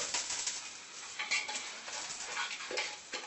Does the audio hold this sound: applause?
no